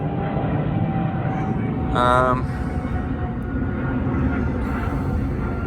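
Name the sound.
airplane flying overhead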